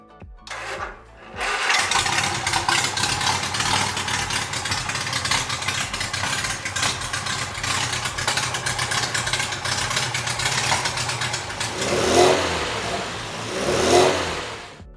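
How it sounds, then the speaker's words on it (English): A restored classic MG Midget engine cranks, catches and settles into a loud, steady close-up idle, then revs up twice near the end. "That's what coming back to life sounds like."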